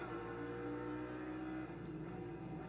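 Audi GT race car of Land-Motorsport heard from onboard during an ADAC GT Masters race: a faint, steady engine drone with tonal whine, continuous throughout.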